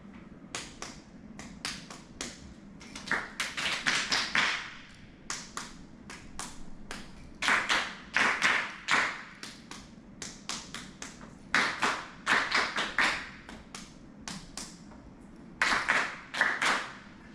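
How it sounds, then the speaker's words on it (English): Hands clapping out a song rhythm during a music teacher training session, bursts of crisp, close claps in short phrased patterns with brief pauses between groups. "I'm going to echo clap a different song now."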